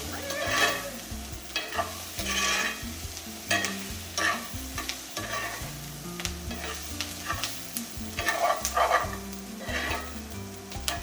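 Brussels sprouts and bacon frying in a pan, seasoned with black pepper and garlic powder, with a steady sizzle broken by repeated scraping stirs and clatter close by.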